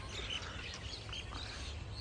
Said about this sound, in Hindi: चिड़ियों की आवाज़ सुनो